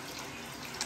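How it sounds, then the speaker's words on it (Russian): Tap water running into a sink or tub while a lion cub is being bathed, a steady close hiss of flowing water with a brief splashy burst near the end. "Настроим водичку."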